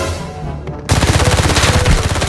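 Enemies shooting at each other in the game Arena Breakout, a sudden burst of rapid automatic gunfire that keeps going in a steady, loud, close rattle after a quieter start.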